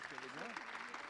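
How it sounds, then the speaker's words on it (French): Audience applause at an award ceremony, a steady wash of clapping filling the whole moment, with a voice faintly audible beneath it. "on l'applaudit encore"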